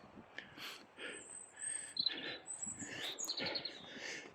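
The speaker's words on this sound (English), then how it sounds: "I don't know if you can hear the birds twittering above me in this tree here." Birds twittering in a tree overhead, thin high chirps and short tweets scattered across a quiet outdoor background, faint and somewhat distant.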